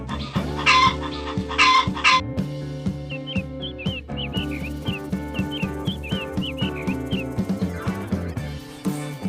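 A hen clucks in short, repeated bursts over a steady musical backing with melody and beat, with a brief higher chirping sound near the start.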